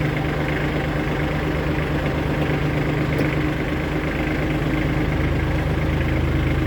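An Iseki GEAS27 mini tractor with a cab runs its engine steadily at close range, a continuous low diesel drone with a faint mechanical whine, no voices over it.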